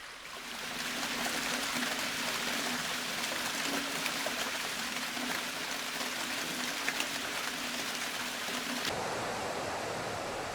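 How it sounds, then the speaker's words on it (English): Glacier meltwater flowing over the top of the ice, a steady, close rushing and trickling wash of water that holds evenly before dropping to a softer flow near the end. "Ice melt flows over the top of the glaciers."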